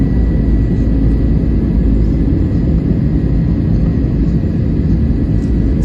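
Steady, loud airliner cabin roar from the engines as the plane descends toward Mumbai on the Ahmedabad–Mumbai flight, a continuous broadband rumble with no talk.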